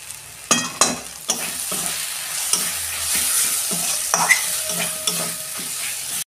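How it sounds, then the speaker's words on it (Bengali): Spice paste with green chilli and Kashmiri chilli powder frying in oil for prawn malai curry, a steady close sizzle punctuated by repeated sharp scrapes of a spoon stirring the pan. "দিয়ে ভালো করে আমি কষাবো।"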